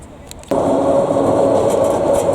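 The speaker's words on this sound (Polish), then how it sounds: "Jest starodawny tramwaj." An old tram rumbles past close by in Timișoara, Romania, a loud steady rolling roar starting abruptly and continuing throughout.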